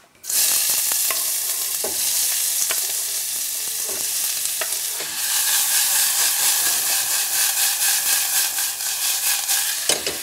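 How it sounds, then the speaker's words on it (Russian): Steady sizzling and crackling of onion frying in hot oil, with occasional clinks of a utensil stirring the pan. "лучок у нас спокойно-спокойно жарится"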